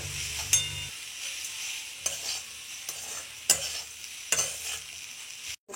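Sliced raw plantain is stirred in a frying pan, a soft background sizzle broken by several sharp scraping strokes of the spoon at irregular intervals, with no speech.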